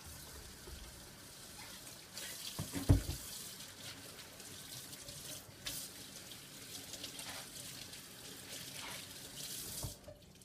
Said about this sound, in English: One more thing I need to peel, my zucchini. Let me wash this off.